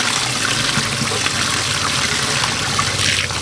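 Cold water is poured over cooked chicharon in a kitchen, a steady splashing trickle of liquid running continuously at close range with no talk.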